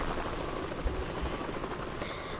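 A helicopter in the snowboarding game Steep gives off a steady, loud, broadband rotor and engine roar that holds evenly the whole time, with no talk over it.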